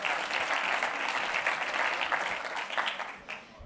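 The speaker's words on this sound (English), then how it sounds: "Round of applause for everyone." A room of attendees at a Google developer event applauds, a sustained crisp clatter of clapping that holds steady, then thins and fades out toward the end.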